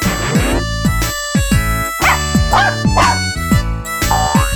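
A puppy yips and barks in quick, high bursts over a bright musical backing.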